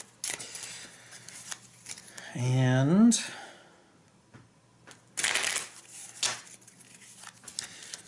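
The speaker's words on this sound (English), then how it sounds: "shuffle and get ready to begin" A deck of game cards for a solo fantasy card game being shuffled at the table, several short papery riffles and rustles in separate bursts, with brief quiet speech.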